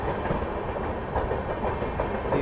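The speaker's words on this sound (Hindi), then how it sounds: "चलिए तो निकल गई प्रयागराज एक्सप्रेस भाई" The Prayagraj Express, a train on the Prayagraj–New Delhi line, rushes past close by with a loud continuous roar and rhythmic clattering of wheels over rail joints.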